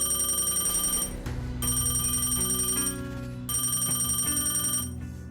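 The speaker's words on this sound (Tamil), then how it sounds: "ஒரு நாள் இரவு அந்த மர்ம காலானது ஒலிக்குது" A telephone rings in repeated electronic bursts, steady and fairly loud, with short pauses between rings and no voices.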